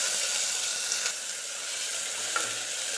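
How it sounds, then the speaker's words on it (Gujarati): Chopped capsicum, onion, tomato and carrot sautéing in a pan for mixed vegetable daliya, giving a steady bright hiss of frying with a couple of faint stirring scrapes, close and fairly soft. "બધી વસ્તુને સાંતળી લઈશું."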